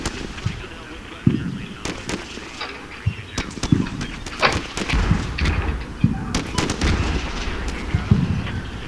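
Gunfire and explosions from the combat game Combat Mission: Shock Force, with scattered sharp shots, bursts and heavier booms cracking out irregularly over a rumbling battlefield background, fairly loud throughout.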